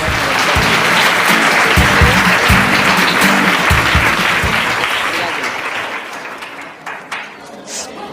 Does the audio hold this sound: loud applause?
yes